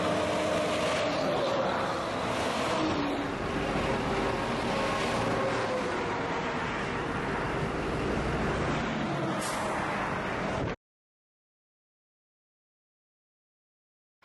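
Road traffic rushing past close to a hiking trail on a hot day, a steady broadband roar of passing vehicles that stays loud for about ten seconds, then cuts to silence.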